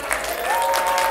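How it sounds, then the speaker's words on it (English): Cinema audience at a horror-fan event applauding, a brief burst of dense, steady clapping with a faint tone running through it. "Big round of applause"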